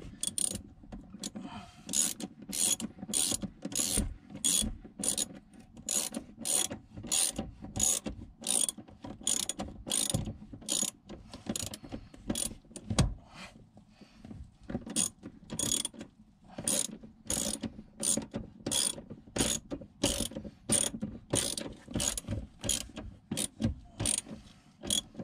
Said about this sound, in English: I'm just going to tighten these front bolts.